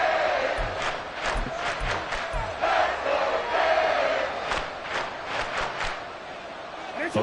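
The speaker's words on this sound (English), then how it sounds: "this crowd doing their best to make a lot of racket" A stadium crowd roars steadily in an EA Sports football video game, a dense loud wash of voices with repeated surging shouts during a late third-down play.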